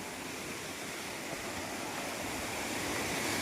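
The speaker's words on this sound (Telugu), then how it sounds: "Wow, this is the final water falls." Manikpur waterfall as a dense, steady broadband roar of falling water, constant and close throughout, swelling slightly toward the end, with no talking.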